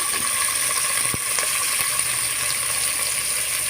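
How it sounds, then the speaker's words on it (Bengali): Sliced onions and red capsicum fry lightly in a pan with a steady, close, continuous sizzle, broken by a few faint clicks and scrapes of stirring, with no voices. "আর দিব লাল রঙের ক্যাপসিকাম দিয়ে হালকা করে আমি একটু ভেজে নিই"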